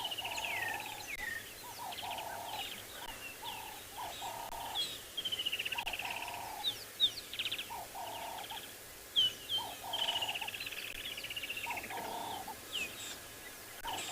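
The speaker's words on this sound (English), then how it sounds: "you can hear all of the birds calling around us, which is gorgeous in this light" Birds call repeatedly around a sunrise safari scene in the African bush, with loud, rhythmic fowl-like calls in regular bursts over faint background chirps.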